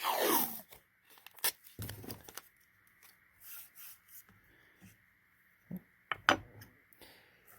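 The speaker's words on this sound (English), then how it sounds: "You're going to take your painter's tape." Painter's tape is pulled and torn from a roll at a knife-making bench, with a long ripping peel, scattered sticky crackles and short tearing bursts, close and fairly loud against quiet.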